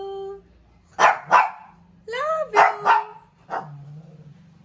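A pet dog barks several sharp, close barks in short bursts while a person nearby speaks affectionately to it between the barks.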